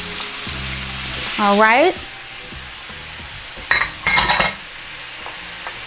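Crab pieces sizzling in a frying pan for surf and turf sliders, a steady close hiss with a short rising voice-like sweep and a few clinks of utensil against pan, with a brief spoken remark.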